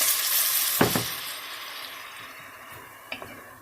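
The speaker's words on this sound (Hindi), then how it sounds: "तो जब आपने ऑनियन जो है वो फ्राई करनी है तो आपने इसमें जो वो चाहे रॉ मीट वो डाल दें" Raw meat frying with onions in a pan for Moroccan harira soup, a broad hissing sizzle that slowly fades, with a few sharp clinks of a utensil near the start and end.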